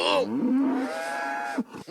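Cow mooing sound effect, a single loud, near bellow stretched over more than a second with a pitch bend at the start and an abrupt end, alone without talk.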